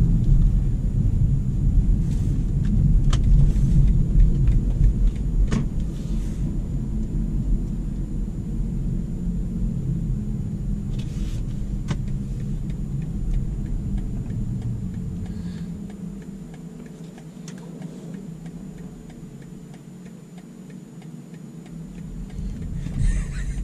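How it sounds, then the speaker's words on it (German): BMW 330e G20 plug-in hybrid driving on electric power, a low steady rumble of road and cabin noise with faint ticking, fairly quiet and without speech. "Ich fahre elektrisch zur Tankstelle."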